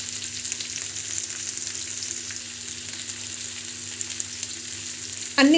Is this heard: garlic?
yes